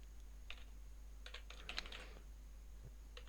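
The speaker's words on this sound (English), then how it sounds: "I'll try and type the word time in there." Several quiet, separate keystrokes are heard on a computer keyboard as a short word is typed during a crossword-solving session, with no talking.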